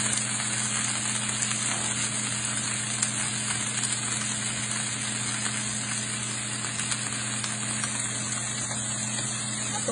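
Kangkong (water spinach) sizzles steadily in a pan with onion, garlic and dried shrimp, giving a continuous loud hiss and crackle under a low hum, with no talking.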